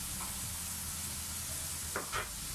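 A spoon stirs chicken fried rice with cabbage in a sizzling pan, with steady quiet frying under two brief scraping strokes near the end and no talk.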